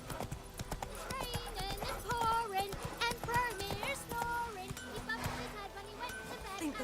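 Roach the horse galloping in The Witcher 3, a rapid, steady clip-clop of hooves up close under game music, with voices talking over it.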